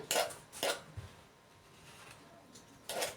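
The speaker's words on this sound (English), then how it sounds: "first you remove some butter from the spoon" Butter scraped off a spoon while mixing muffin batter: a few sharp metallic taps and scrapes against a bowl, separated by quiet pauses.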